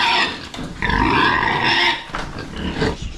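A pig being handled for loading into a crate on a rural farm grunts and squeals loudly and close, in repeated harsh bursts with short pauses, no voices over it.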